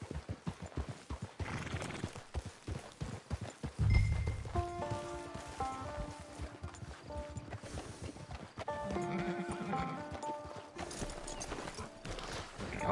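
A horse in the video game Red Dead Online trots with steady, rhythmic clip-clopping hooves throughout, and a whinny rises midway over the hoofbeats.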